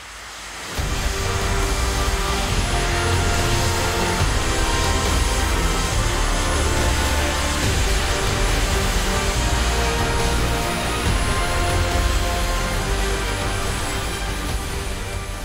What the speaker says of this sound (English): control six jet engines, which between them guzzle a gallon of fuel every minute